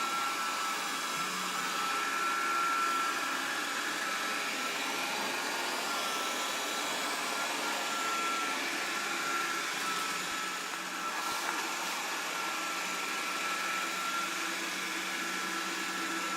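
A Proscenic 820S robot vacuum cleaner runs with a steady, faint whirring hum that holds constant throughout with no voices.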